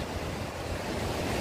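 Broad, steady wash of surf with wind noise, a constant roar of waves close by on Holltekamp Beach in Jayapura, Papua, with no voices.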